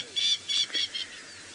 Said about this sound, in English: The birds are calling, the wind's not blowing.